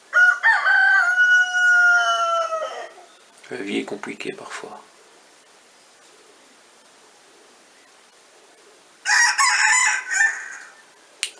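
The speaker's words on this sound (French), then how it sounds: "Et le coq enroué chante." A hoarse rooster crows in a long, rasping call, then a short burst follows and another crow comes near the end, with someone speaking French between the calls.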